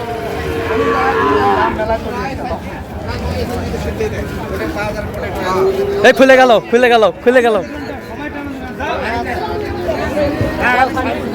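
Sahiwal bulls and calves at a livestock market in Satkhira moo in a few loud bursts midway, under constant crowd chatter and bargaining voices.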